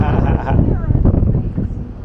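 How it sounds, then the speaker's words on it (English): Wind gusts buffet the microphone outdoors at the Wisconsin State Capitol, a loud, rough rumble that runs throughout while people talk over it. "This is the windy side right now."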